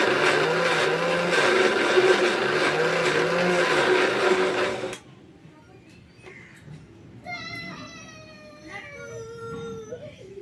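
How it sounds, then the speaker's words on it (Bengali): A blender whirs loudly, beating soaked lentil paste for dal bori, with a wavering motor pitch for about five seconds before cutting off abruptly, leaving quiet room sound with a child's high-pitched playful calls afterward. "এই যে আমার ডাল ফেটে নেওয়া হয়ে গেছে।"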